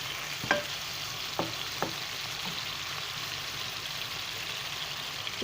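Chicken wings fry in hot oil on their second side, giving a constant close sizzle and hiss with a few distinct spatula taps and scrapes, no talking.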